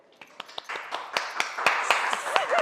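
A few people clap by hand in a quick, uneven run of sharp claps, growing slightly louder and denser, close by, with a brief voice near the end.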